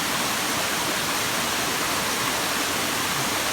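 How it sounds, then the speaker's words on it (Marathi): A waterfall in a Konkan forest near Chiplun, a loud steady roar of falling water, close and unbroken like dense broadband hiss, with nothing else audible. "हा इथे आहे मुख्य धबधबा"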